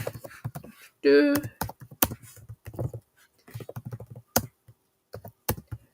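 Quick bursts of typing on a computer keyboard, irregular clusters of close clicks with pauses between, while a voice talks over part of it.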